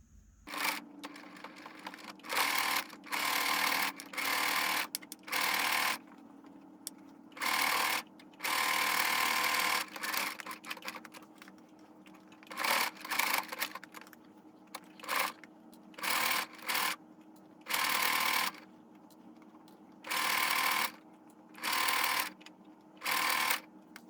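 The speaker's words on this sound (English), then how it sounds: "but I will just sew around the edges" A sewing machine stitches around the edges of a kitchen towel in short rapid bursts, stopping and restarting repeatedly with brief pauses between runs, close and clear.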